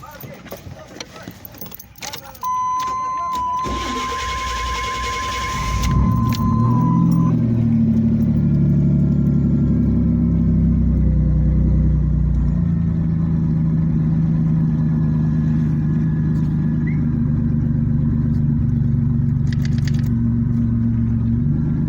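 Keys jangle, then the engine of a 1989 Chevy Camaro with an engine computer fault cranks briefly and catches, settling into a steady, loud idle that continues to the end.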